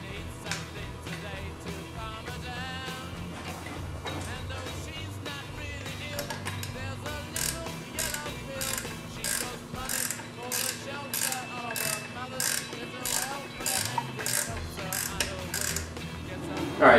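An alternator bolt is tightened with a ratchet, a quick series of clicking pawl strokes that grow more distinct and rhythmic in the second half, heard close over a low mechanical background.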